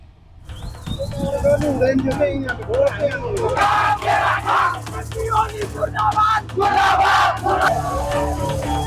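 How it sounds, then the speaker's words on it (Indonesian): Protesters clash with riot police in Kathmandu, Nepal, as a crowd hurling objects marches toward the parliament building: a loud, continuous roar of many voices with repeated yells and cheers rising and falling throughout. "Kerumunan mengunjuk rasa melemparkan benda-benda ke arah polisi anti huru-hara saat barisan menuju gedung parlemen"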